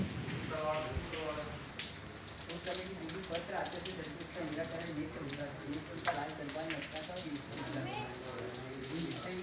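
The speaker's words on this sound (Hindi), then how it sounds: "अभी मौसम बहुत बढ़िया था तुरंत बारिश हो गई" Rain falling at Ahilyabai Fort in Maheshwar, a steady pattering hiss on surfaces that runs the whole time beneath a voice speaking close by.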